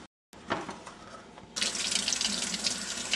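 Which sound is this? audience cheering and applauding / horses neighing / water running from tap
water running from tap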